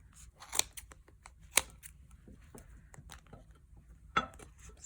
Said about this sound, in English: It's nice to have some sharp scissors.